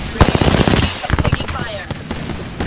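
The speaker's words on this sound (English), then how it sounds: "Taking fire." Gunfire in the video game Apex Legends, loud close rapid automatic bursts with sharp repeated cracks, then quieter scattered shots, with a character voice briefly speaking over it.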